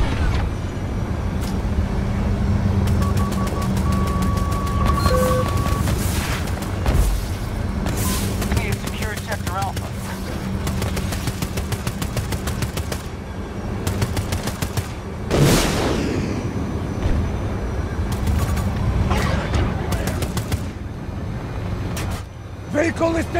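Explosions and incoming fire in a combat video game with helicopters and F-35 jets: rapid gunfire bursts and heavy booms, one especially strong blast midway, over a continuous rumbling battle backdrop.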